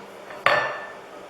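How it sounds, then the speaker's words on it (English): A single blacksmith's hammer blow lands face-on against the face of an anvil while drawing out metal: one sharp, close strike followed by a bright, sustained metallic ring that slowly fades. "So that is hitting with the face of your hammer on the face of the anvil."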